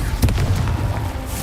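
A Confringo fire spell bursts in Hogwarts Legacy, a sharp booming blast followed by a short rumbling tail, loud and close, with no talk over it.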